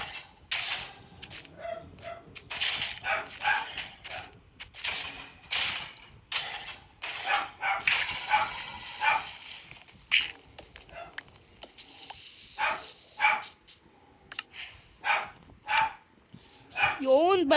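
Repeated Minecraft dog barks and yips ring out in quick bursts, mixed with game sound effects and people talking over them.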